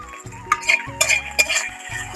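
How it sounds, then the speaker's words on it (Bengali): Okra being stirred in a pan with salt and turmeric, a spoon scraping and clinking against the metal in several separate strokes, close and fairly loud over a low background hum. "আবারও একটু নেড়ে চেড়ে নেব।"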